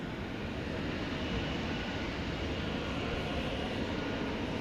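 A UPS Boeing 767 cargo jet takes off at night from DFW Airport, bound for Ontario, California, with a steady, loud broadband engine roar that holds throughout and no talking.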